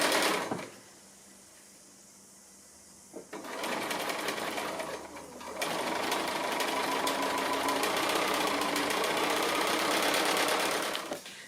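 Domestic sewing machine stitching quilt fabric for a house sampler block, a steady rapid mechanical whir running for several seconds after a quieter pause, close and loud.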